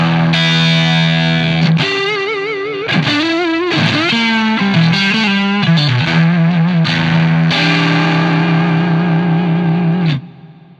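A distorted electric guitar plays a lick through a Marshall Super Lead 100-style amp: bent, sustained notes with wobbling vibrato, brief pauses between phrases, then a final held chord that cuts off.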